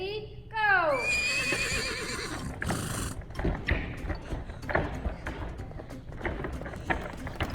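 A high, wavering whinny opens, then a toddler gymnastics class erupts into noisy play with thumps, running feet and children's voices mimicking horses.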